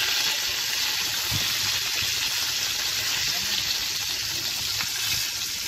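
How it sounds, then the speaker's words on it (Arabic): Sardines frying in oil in a pan, a steady dense crackling sizzle close up, with a few soft scrapes and knocks as the fish are handled. "دابا هو بدا كيطيب نفس تحمر، نبداو نقلبو في الحوت ديالنا فوالا"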